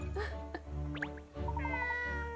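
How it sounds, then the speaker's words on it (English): A cartoonish cat meows a few times in Layton's Mystery Journey, short rising mews heard over steady game background music and talking. "That cat is ugly."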